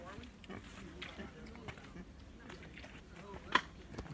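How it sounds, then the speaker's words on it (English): Pigs grunting and oinking in a small rural village in the Dominican Republic, low snuffling calls under outdoor ambience with a person talking over them and a brief sharp sound near the end. "And there's some pigs."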